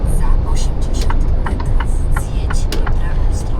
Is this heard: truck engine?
yes